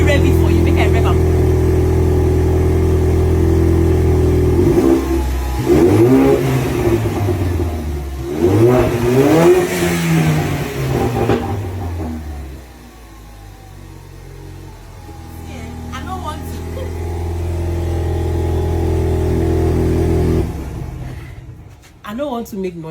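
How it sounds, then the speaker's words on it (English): A car engine revs hard several times, with rising and falling pitch sweeps in bursts, then settles into a steady idle. Someone talks over parts of it. "Let me rev it for you."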